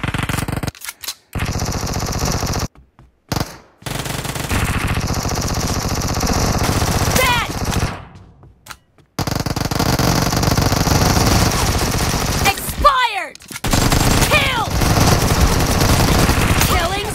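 Automatic gunfire in PUBG Mobile during a team match, bursts of rapid shots broken by short silent gaps, loud and close, with game sounds and some voice mixed in.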